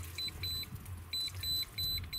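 A cheap beach metal detector that also works underwater gives short, high-pitched electronic beeps in quick repeated bursts over a low background hum.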